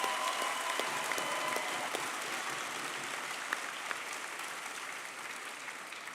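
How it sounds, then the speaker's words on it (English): A large audience at a medical school white coat ceremony claps steadily for the incoming students, a fairly distant, even wash of many hands that slowly thins out over several seconds. "Let's give these excellent students a big round of applause,"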